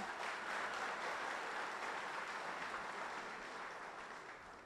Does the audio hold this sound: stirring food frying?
no